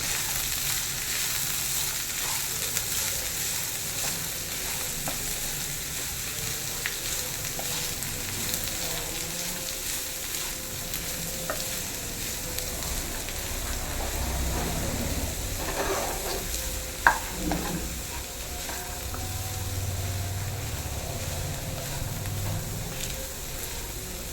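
Thoran with green chili being stirred and fried in a pan for a Kerala-style dish, a steady close sizzle running throughout with occasional scraping stirs and one sharp clink near the end.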